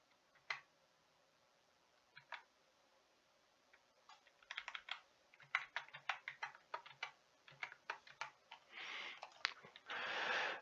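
A student ID typed on a computer keyboard to join an online class, heard as scattered clicks that build into a quick burst of close, crisp keystrokes in a quiet room, with no talking.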